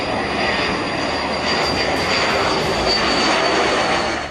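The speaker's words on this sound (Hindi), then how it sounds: "दुनिया का सबसे खतरनाक लड़ाकू विमान रफेल" Rafale fighter jet engine at the Ambala air base in Punjab, a steady, loud broadband roar sustained throughout without breaks, with no speech.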